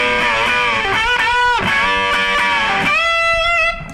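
Distorted electric guitar playing the opening of a song's solo, loud and up close, with bending, sliding notes and sustained tones, heard alone without talk.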